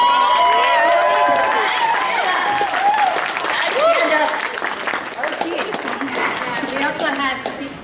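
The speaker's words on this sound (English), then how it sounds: "give a round of applause for them" Convention panel audience applauding the Daughter of Discord cast and crew at BronyCon 2018, loud sustained clapping with cheers, whoops and crowd voices mixed in, gradually thinning toward the end.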